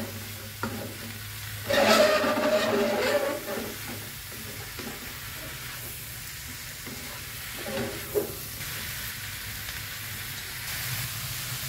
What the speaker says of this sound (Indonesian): kemudian kita masukin rebungnya ya. Kita aduk sampai merata.